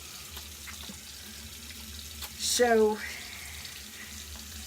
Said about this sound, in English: I'm sorry if you hear the water running. I'm just going ahead and kind of washing a couple of more brushes while we're talking.